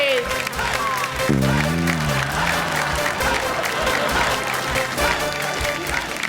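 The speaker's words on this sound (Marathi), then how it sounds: "एकदा जोरदार टाळ्या होऊन जाऊ दे." A studio audience claps for two women contestants on a Marathi television game show, a sustained burst of applause with crowd noise and a musical sting underneath.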